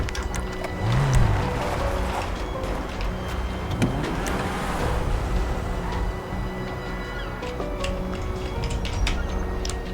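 Car engine in a roleplay video game, a steady, continuous motor drone that holds for the full stretch with small tonal shifts, no talking.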